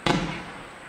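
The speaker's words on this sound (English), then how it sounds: "so it's a Roman candle." A single Roman candle firework shot fires with a sharp close pop, then a hissing, crackling decay trails off over the next second, with no voices.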